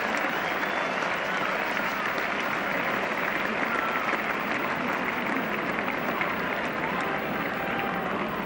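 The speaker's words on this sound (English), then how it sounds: "So the crowd happy that Hendrick is down the striker's end." A cricket crowd at a 1974 Pakistan vs England Test match applauds after a lusty blow to the boundary for four, broad steady clapping and cheering sustained throughout at full volume.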